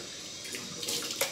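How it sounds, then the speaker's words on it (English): Water splashed onto a face from a sink during a shave with cold water, a quiet wet sloshing that rises into a few soft splashes near the end. "Cold water on the face."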